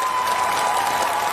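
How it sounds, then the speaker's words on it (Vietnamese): Applause from a studio audience at a televised children's bolero singing show, a dense, steady wash of clapping that fills the whole short stretch with no talk over it. "Ai thấy Huỳnh Lập múa có hồn nhất vỗ tay"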